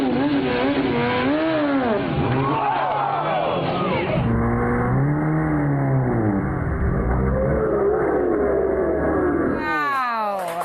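A high-powered sports bike engine revs hard through a wheelie, loud and close, its pitch sweeping up and down in repeated surges, then cutting to a sharp scraping crash at the end.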